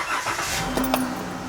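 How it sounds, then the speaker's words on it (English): A Dodge Grand Caravan engine starts up nearby, a brief cranking whir catching into a steady, fairly loud idle rumble, no talking. "So let's start it up."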